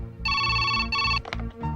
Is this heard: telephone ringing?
yes